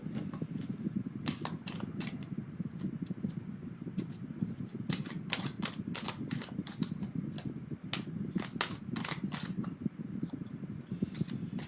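A deck of tarot cards is cut and handled at a table, giving a steady run of crisp clicks and flicks over a constant low room hum, with no talk.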